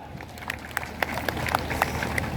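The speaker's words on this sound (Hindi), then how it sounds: "एक बार उनके लिए जोरदार तालियां" Scattered hand clapping from a gathering at a company event, a fairly faint and sparse run of separate claps over a low background murmur.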